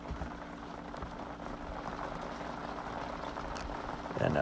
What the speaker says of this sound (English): The rain's picking up right now, so the audio is probably going to be pretty crap.